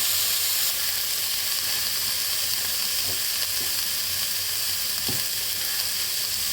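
Red amaranth greens frying with garlic in a pan, a steady close sizzle and hiss with a few soft stirring clinks, no voices.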